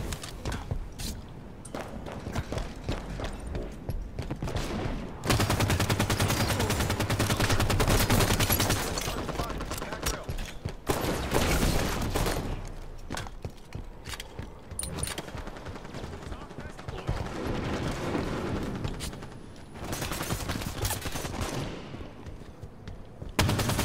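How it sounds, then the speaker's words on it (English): Rapid automatic gunfire crackles in near-continuous bursts from enemies in the Halo 5: Guardians multiplayer shooter, loud and dense with brief pauses between volleys. "Watch the enemy fire."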